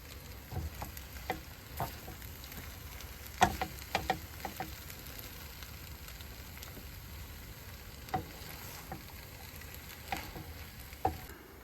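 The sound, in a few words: food tossed and mixed with tongs in a RidgeMonkey pan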